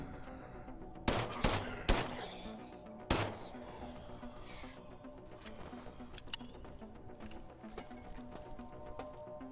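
Gunfire in the 2023 System Shock remake: several sharp shots in a quick cluster, then another lone shot, with fainter clicks and mechanical noises trailing after, no talking.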